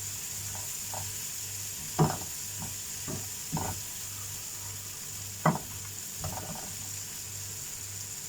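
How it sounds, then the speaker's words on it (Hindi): Masala frying in a pan for bheja masala fry: a low, continuous sizzle broken by scattered spoon scrapes and taps, two of them sharper and louder than the rest. "मसाला को अच्छे से भून ले"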